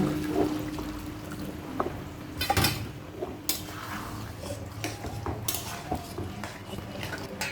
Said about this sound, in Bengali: এবার দিয়ে দেবো একটু জল